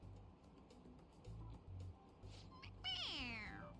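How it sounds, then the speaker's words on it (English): A stuffed toy cat gives a squeaky mechanical meow when its head is pressed in Persona 5 Royal, one clear cry near the end after short low tones and quiet background. "It meows when you press on its head."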